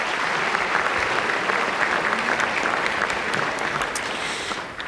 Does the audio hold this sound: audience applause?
yes